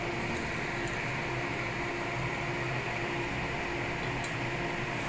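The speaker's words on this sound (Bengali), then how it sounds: "দেখতে পাচ্ছ আমি এখানে চিমনিটা অন করে দিয়েছি" Steady broadband whoosh of a kitchen chimney exhaust hood fan running over a stove, constant and unchanging with a faint hum and occasional tiny ticks, no voices.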